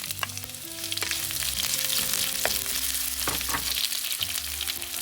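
Shallots, mustard seeds and curry leaves sauté in hot oil for a sardine curry with roasted coconut, making a steady, close, continuous sizzle with faint crackles throughout.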